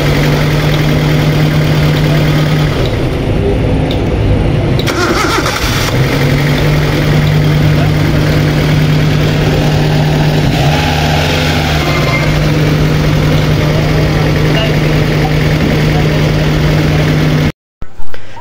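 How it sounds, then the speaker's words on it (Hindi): A car engine idles steadily after a cold morning start, a loud, even mechanical drone with a constant low hum that continues for most of the stretch before cutting off abruptly near the end. "इंजन माशाल्लाह सुबह के टाइम हाफ स्लप स्टार्ट हो चुका है।"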